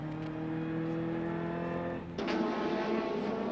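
A 1988 touring race car at Bathurst with a heavy vibration drones steadily as it runs gently over the top of the hill, a sustained engine tone that shifts briefly partway through, with no voices.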